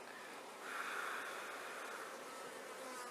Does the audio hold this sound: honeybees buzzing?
yes